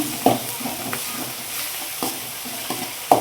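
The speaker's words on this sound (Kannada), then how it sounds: "ಚೆನ್ನಾಗಿ ಫ್ರೈ ಆಗಲಿ." Green chillies frying in hot oil with ginger-garlic paste for egg rice, a steady close sizzle broken by a few sharp spoon clinks and scrapes as the pan is stirred.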